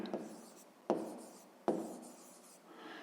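A fraction being written by hand on paper, a few soft scratchy strokes with sharper taps at the start of each, quiet and close, no voice.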